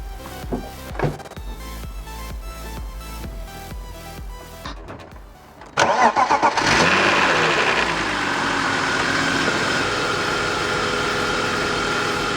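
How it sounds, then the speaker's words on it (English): BMW budget race car engine, checked for a noise from under the valve cover, cranks after scattered clicks and clatter, then catches and settles into a loud, steady, close-up idle. "let's fire it up and see if that sound from underneath the valve cover's gone away"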